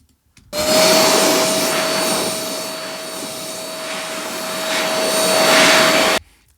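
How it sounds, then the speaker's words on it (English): A small electric air blower for cleaning electronics, used as a game sound effect, starts abruptly into a loud steady whooshing whine with a thin high tone, swells slightly, then cuts off suddenly. "So it's actually an air blower, basically. A small one for cleaning the electronics equipment."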